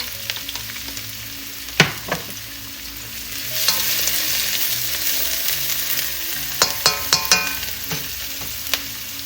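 Onions and garlic sizzle in a pan while being stir-fried with two spatulas for chicken pancit bihon, a steady crackling fry with several sharp spatula clanks and scrapes against the pan.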